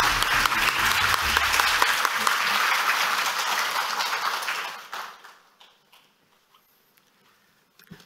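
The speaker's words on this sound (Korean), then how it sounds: "김영훈 교수님을 큰 박수로 맞이해 주시기 바랍니다." Lecture hall audience at a Fields Medal commemorative lecture applauds to welcome a professor, dense clapping for several seconds that dies away to a few scattered claps and quiet.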